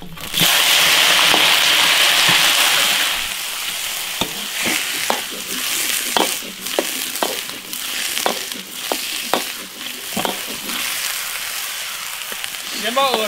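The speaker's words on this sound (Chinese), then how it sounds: "然后把洗干净的鹅下锅炒" Washed goose pieces hit a wok of bubbling caramelized sugar with a loud, hissing sizzle. The sizzle then settles into steady frying as a spatula clanks and scrapes against the metal in an irregular rhythm, close up.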